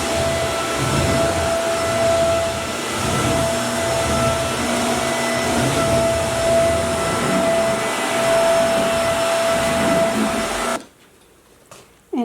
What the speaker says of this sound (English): Yes, he vacuums.